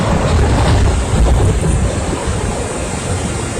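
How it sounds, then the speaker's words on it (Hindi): A landslide in Mandi, Himachal Pradesh, sends mountain debris crashing down onto the road. It comes through as a loud, continuous, rumbling roar with heavy low-end wind-like buffeting that holds steady throughout, with no voices. "पहाड़ भर-भरा कर सड़कों पर गिरा, चारों तरफ धुएं का गुबार उठा।"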